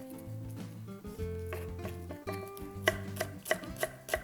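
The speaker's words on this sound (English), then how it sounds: "Cut them into thin slices and then julienne it." A knife julienning radish into thin matchsticks on a cutting board while making Korean banchan; quiet, soft chopping at first, turning into several crisp, evenly spaced taps near the end, heard alone without talk.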